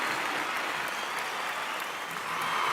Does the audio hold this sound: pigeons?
no